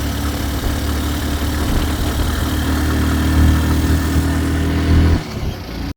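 A motorbike engine idles nearby with a steady low chug that swells slightly, then drops away sharply near the end.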